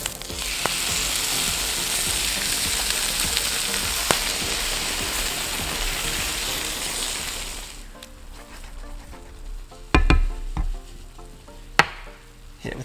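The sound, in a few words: tomato puree and diced tomatoes added to frying chickpeas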